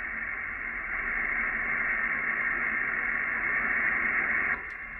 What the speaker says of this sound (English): Now it's without any noise reduction, a noise blinker, without any notch filter.